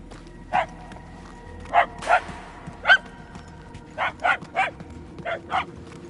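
A dog in the Guardians of the Galaxy game barks in short yapping bursts, singly and in quick pairs, at a moderate distance against a low steady hum. No voices are heard.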